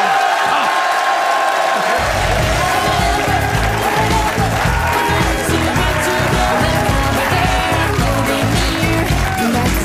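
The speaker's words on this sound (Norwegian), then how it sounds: "Folkens, gi en stor og varm applaus." A studio audience gives loud, sustained applause with cheering and whoops, filling the whole stretch after a short buildup at the start.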